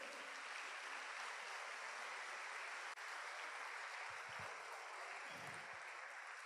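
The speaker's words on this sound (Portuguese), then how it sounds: "Dá um aplauso ao Senhor," Steady, dense applause from a church congregation during a Portuguese-language sermon, a continuous wash of clapping with a few low thumps toward the end.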